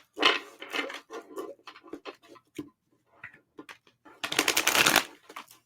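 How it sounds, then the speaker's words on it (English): Tarot cards being shuffled by hand up close: quick riffles and soft slaps in bursts, ending in one loud, dense riffle. "All right, 2 more shuffles and we're good to go."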